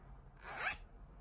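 A single quick zipper pull, a short rising rasp lasting about a second, close and fairly quiet.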